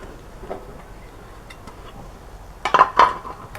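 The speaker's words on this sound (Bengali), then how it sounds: "এখন কড়াইটা বসিয়ে দেব।" A wok (karai) is set down on a kitchen stove while making whole hog plum (amra) morabba: after a quiet stretch, two or three sharp metallic clanks and clinks land close together near the end.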